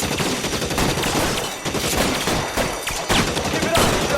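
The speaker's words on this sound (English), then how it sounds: "I'll lay down some suppression fire." Sustained suppressing gunfire in the L.A. Noire video game, a dense, continuous barrage of shots with sharp cracks throughout, loud and steady across the whole span with no pauses.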